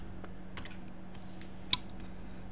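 A few soft keystrokes tap on a computer keyboard while a command is typed, with scattered quiet clicks over a low hum and one sharper click near the middle.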